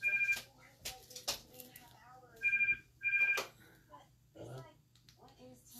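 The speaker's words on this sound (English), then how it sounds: "phone keeps going off" A phone rings in short repeated electronic bursts, moderately loud, amid voices, rustling and sewing-room sounds during a craft session.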